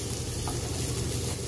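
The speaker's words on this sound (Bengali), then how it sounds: "এটা হলো হাজব্যান্ডের পছন্দের কুমড়ো ভাজা" Pumpkin pieces frying in a pan with turmeric give off a steady, close sizzle, continuous and even, with a faint stirring scrape and no talk.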